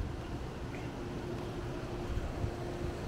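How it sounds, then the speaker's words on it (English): Steady wind rushes at a hotel property in Lihu'e, Kauai, a constant low roar with gusty buffeting on the microphone, no voices. "The wind is just blowing."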